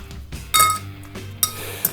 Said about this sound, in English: We'll add our ice. Again, you want to use large, pretty cold ice cubes